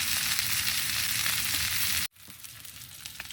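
Steak sizzling on a wood stove at a campsite, a loud dense crackling fry that cuts out abruptly partway, then returns quieter as softer sputtering.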